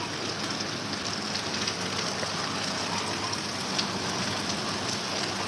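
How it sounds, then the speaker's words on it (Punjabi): Heavy monsoon-style rain pours down in a steady, dense hiss that lasts the whole stretch, loud and unbroken, with drains overflowing nearby and no talking. "ਫੁੱਲ ਮੀਂਹ ਪੈ ਰਿਹਾ ਘੰਟਾ ਹੋ ਗਿਆ ਡੇਢ ਘੰਟਾ ਪੈਂਦੇ ਨੂੰ"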